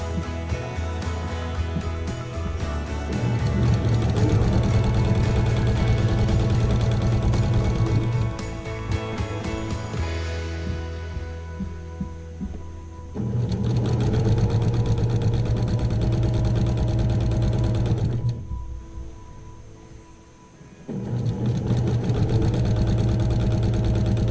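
A sewing machine stitches a quilted table runner, its motor whirring in long steady runs with a low rhythmic hum, pausing briefly twice before starting up again, close and fairly loud.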